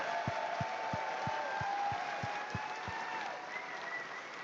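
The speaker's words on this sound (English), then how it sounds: "So big round of applause to the whole sound team at DE." Steady applause from an audience at TennoCon fills the clip, with a few sharper claps standing out at a regular pace over a continuous background hum.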